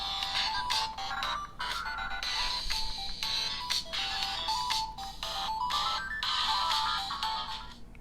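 Ringtone melody playing from the speaker of a Tecno Spark 10 Pro phone, a bright repeating electronic tune that carries steadily through the whole stretch with no talking.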